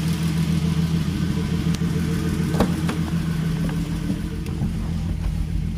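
A VR6 turbo engine idles steadily with a low, even rumble, close and continuous, with a few faint clicks and knocks in the background.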